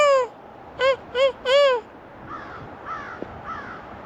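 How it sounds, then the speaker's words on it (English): A crow caws four times in quick succession, loud and close, at a cemetery; fainter, more distant caws answer afterward. "You hear the bird? The blackbird, the crow?"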